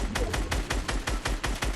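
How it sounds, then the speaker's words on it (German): Rapid bursts of gunfire from Fortnite Battle Royale, loud and close, about nine evenly spaced shots in quick rhythm with no pauses, with no talking. "Ich muss das Ding zusammenschießen"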